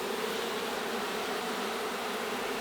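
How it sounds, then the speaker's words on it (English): A drone honey bee buzzes near the hive, a steady, soft droning hum that holds an even pitch throughout with no breaks, quiet and close with no voices. "There's a drone bee."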